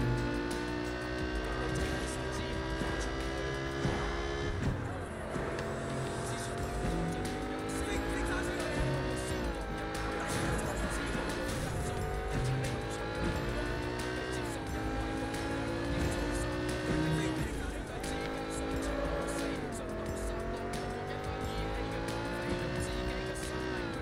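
A car races through a park in the video game Sleeping Dogs, its engine revving and rising in pitch through repeated gear shifts, with tire squeals and skids, loud and continuous throughout.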